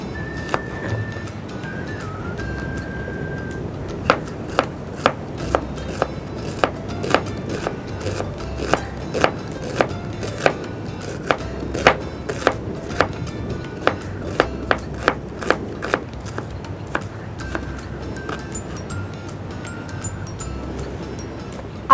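Onion and green chilli being chopped with a knife on a board during a cooking segment, a long run of sharp, evenly spaced chops close to the microphone over a low kitchen hum.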